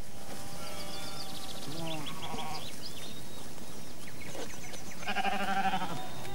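Moorschnucke sheep bleat across marshland crossed by ditches, a few wavering calls rising from the flock at moderate distance, under a constant hiss and narration.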